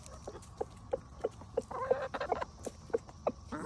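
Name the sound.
chickens and rooster clucking while eating cicadas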